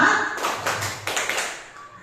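A group claps in counted rhythm during a school concentration clapping game at an elementary school event, with a few sharp, close clap bursts following a brief voice.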